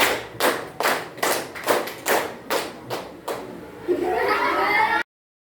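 A classroom group claps in two quick sets of three, crisp and near, ending in a short burst of scattered applause and shuffling before cutting to silence.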